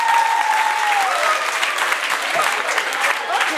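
Participants at a menstrual hygiene program applaud themselves with a steady wash of group clapping, fairly loud and continuous, with faint voices mixed in.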